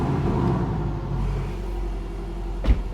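Crayon Grey 2018 Porsche 718 Boxster with PDK gearbox, 2-litre engine and sports exhaust idling with a steady low rumble close by, a brief louder throaty blip near the end.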